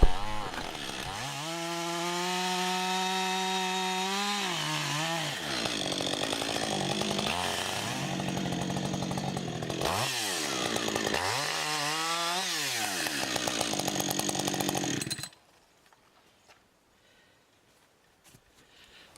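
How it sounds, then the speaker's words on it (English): A Husqvarna chainsaw saws through big hardwood logs for a live-edge countertop. The engine roars loud and close, with its pitch dipping and rising as the chain bites, then cuts off abruptly, leaving near silence. "sawing up some big hardwood logs for a live-out edge countertop"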